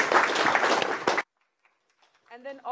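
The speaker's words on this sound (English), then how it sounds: "let's give all the staff a big round of applause" Audience applause for library staff at a town hall meeting in San Ysidro Library, a dense, close burst of clapping lasting about a second before cutting off, followed by quiet and then a voice speaking.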